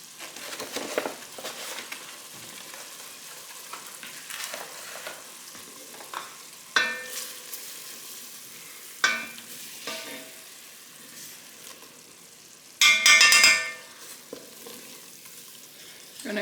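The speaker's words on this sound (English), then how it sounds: "I'm gonna cook that flour flavor out of this roux" Butter and flour roux cooking in a pan with a soft steady sizzle, broken by occasional scraping strokes of a spoon stirring and a louder clatter near the end, close by and without speech.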